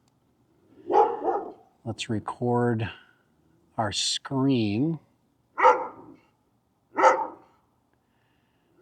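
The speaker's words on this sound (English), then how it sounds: "I don't know what Steve thinks he's going to accomplish by barking at the drone" A dog barks at a drone flying outdoors on a windy day, several short sharp barks spaced through the moment, mixed with a voice speaking nearby.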